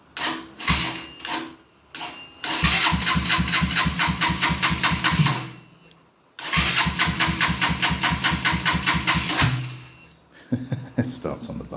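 A boat engine on the crossover of a motor cruiser named Tempest cranks over twice on the starter button, each time settling into a loud, steady, rhythmic idle, with brief pauses between attempts.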